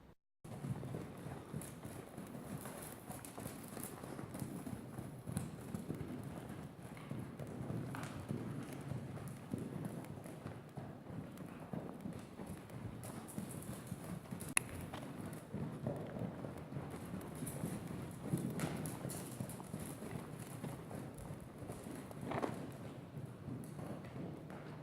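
Three trained horses move together at a walk and run, hooves thudding in a steady, blended clip-clop beneath constant outdoor rumble, fairly close and without voices.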